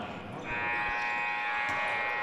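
A basketball game buzzer sounds at the end of the second quarter in a high school boys' game, a steady loud electronic tone starting partway in and holding to the end over crowd murmur.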